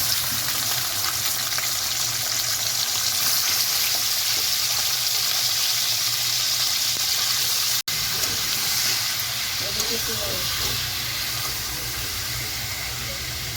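Chicken pieces with skin fry in oil left over from frying potatoes, onion and capsicum, a continuous loud hiss and crackle with a brief clatter partway through.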